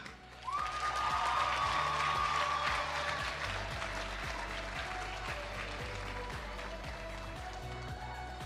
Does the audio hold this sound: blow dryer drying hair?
no